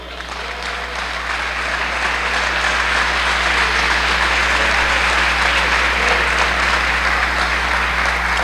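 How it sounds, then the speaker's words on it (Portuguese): A church congregation applauds loudly and continuously, a thick roar of clapping that swells over the first couple of seconds and then holds steady, with a low hum underneath. "Aplauda ao Senhor."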